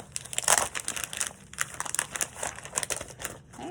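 A thick double-weight acetate sheet is handled and crinkled at close range, giving irregular bursts of crisp crackling and sharp crunches with brief pauses between them.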